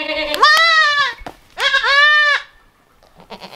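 Newborn baby goat bleating during ear tagging, two loud, drawn-out nasal cries close to the microphone, followed by faint handling noise.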